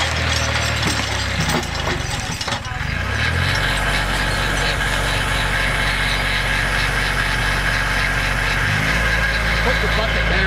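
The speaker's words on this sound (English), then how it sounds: "we're feathering it right now with the hydraulic winch" A small-horsepower tractor runs a Hud-son hydraulic skidding winch as a large tree is dragged, the engine droning loud and steady with mechanical clanking early on and a shift in engine pitch partway through.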